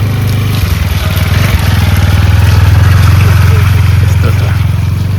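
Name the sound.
motorcycle approaching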